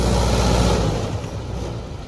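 A Mahindra 585 tractor engine runs loud and close under load with a rotavator, a dense, steady low rumble with a rough diesel beat that eases slightly toward the end.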